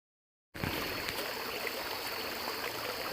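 Creek water flowing in Mohican State Park, a close, steady rushing burble that begins abruptly after a brief silence and continues evenly and loud.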